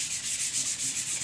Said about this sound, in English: you take I use a sponge with a rough padding on the other side